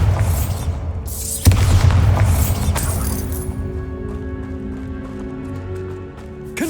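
A Bombarda spell explosion in Hogwarts Legacy lands as one sharp, loud blast with a rumbling tail, followed by a few fainter impacts and a quieter game ambience.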